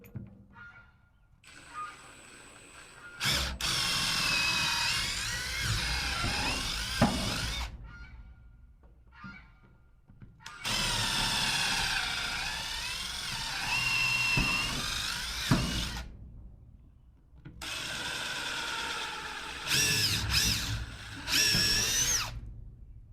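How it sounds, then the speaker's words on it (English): A power drill bores into a tough board in three long, loud bursts of high whining and grinding, separated by short pauses of near silence. "Board is tough to drill in."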